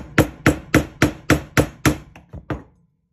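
Hammer strikes driving nails into a wooden board for string art, seven evenly spaced sharp taps followed by two lighter ones, close and loud with no talk.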